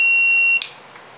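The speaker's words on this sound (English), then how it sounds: "that is our buzzer circuit" A buzzer driven by a 555 timer circuit gives one steady high-pitched electronic tone that holds for over half a second, then cuts off abruptly, leaving faint background hiss.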